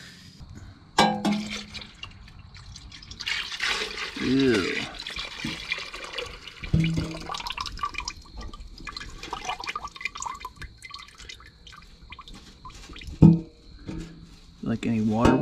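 Water mixed with oil drains and trickles out of the engine of an old gas golf cart pulled from a junkyard, with splashing and dripping heard under close conversation.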